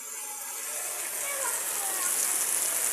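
Heavy rain pours outside a house at midday, a steady broad hiss of falling water that grows slightly louder and denser throughout, with no voices.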